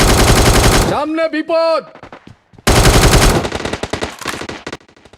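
Thompson submachine gun fire in BGMI rattles in loud, rapid bursts, one opening burst then a longer stream of fire, separated by a short gap with a spoken voice and game effects in between.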